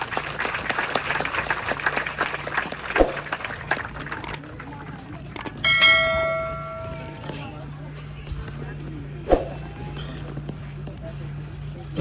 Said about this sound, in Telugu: మీ కరతాళ ధ్వనులు మరింతగా మ్రోగాలని ఆశిస్తున్నాను.